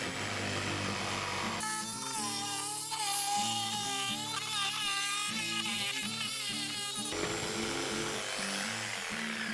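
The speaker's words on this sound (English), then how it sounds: "Now we are going to cut out that circle using the jigsaw." A jigsaw cuts a circle out of a wooden tabletop, its motor whining in a steady buzzing drone that starts abruptly, rises and falls slightly in pitch as the blade bites, then stops.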